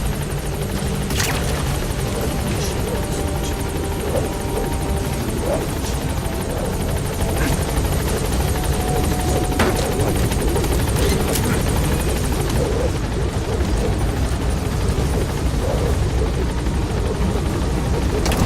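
The Pequod helicopter in Metal Gear Solid V lifts off with a loud, steady rotor roar and engine whine throughout, a few sharp in-game clicks and voice lines breaking over it.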